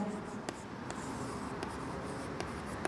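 Chalk or marker tapping and scratching on a board during a maths lesson, soft brief strokes at a few irregular moments beneath a teacher's voice.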